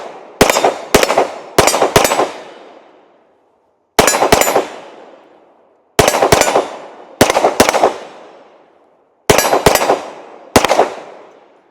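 A Glock 47 pistol fitted with a Radian Ramjet compensator fires in quick strings of two to four sharp, loud shots with ringing decay, grouped bursts separated by short pauses, with no talk.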